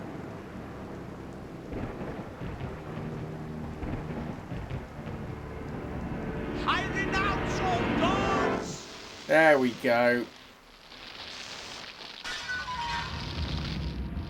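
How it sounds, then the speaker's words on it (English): Thunder and a lightning strike in the video game Discworld Noir: rumbling storm with rain runs under someone talking, then sharp crackling lightning bursts stand out loudly near the end. "Nothing quite like renouncing all gods to get set on fire with lightning bolts"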